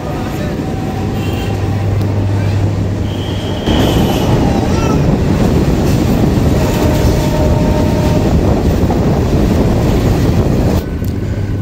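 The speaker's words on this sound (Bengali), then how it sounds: "তো আমাদের ট্রেন এখন কার্ভের মধ্যে দিয়ে কৃষ্ণনগর সিটি জংশনের দিকে এগোচ্ছে।" A Krishnanagar–Amghata local passenger train on its inaugural run rounds a curve toward Krishnanagar City Junction, giving a loud, close, steady rumble of wheels on rails, with wind buffeting the microphone and faint squeals.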